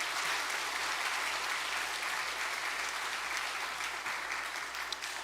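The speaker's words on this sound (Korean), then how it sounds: "박수하겠습니다." Congregation in a Korean Presbyterian church applauds after an infant baptism, with a continuous, even wash of many hands clapping at moderate distance and no speech over it.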